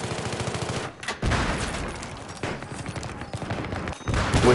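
Light machine guns firing in the Battlefield 3 video game, a loud, dense stream of rapid bursts nearly filling the clip, broken by a short gap near the first second and another near the fourth.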